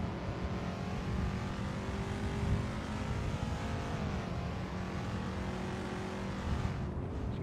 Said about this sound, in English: You hear this new engine, which I think may be a V8, roaring to life.